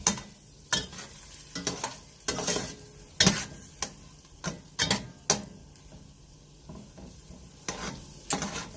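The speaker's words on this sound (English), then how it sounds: "I've turned mine up to medium high so that it can just get this butter melted, finish melting" Butter melting in a pan over medium-high heat for shrimp étouffée, with a soft sizzle under intermittent scraping and stirring clicks of a utensil against the pan, close and fairly quiet.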